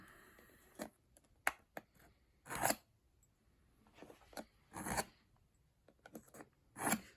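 A knife blade blacked out with Sharpie being drawn across a sharpening stone: spaced, scraping rasp strokes come one at a time at an uneven pace, close and fairly soft, with quiet gaps between them.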